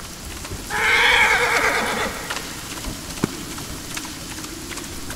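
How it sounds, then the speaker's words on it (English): A horse gives one loud, clear whinny lasting about a second, followed by a steady wash of rain on the ground and faint scattered knocks and a single sharp tap, with no voices. "Young Lucian, atop his horse, went rushing through the plains, but darkness fell upon his back, and with it fell the rain."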